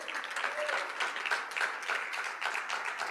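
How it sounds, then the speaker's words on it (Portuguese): Steady applause from a church congregation during a worship service, a fairly even wash of clapping lasting a few seconds at moderate distance, with faint voices mixed in. "Aplauda ao Senhor"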